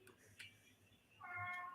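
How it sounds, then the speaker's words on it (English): A cat meows faintly in the background of a quiet room, one drawn-out tonal cry near the end after a few soft clicks. "cat's meow in the background"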